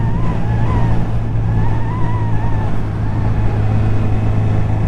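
A 2019 Honda CB1000R motorcycle engine with a quick shifter pulls hard under acceleration, a steady, loud, close drone whose pitch climbs and wavers with no talking over it.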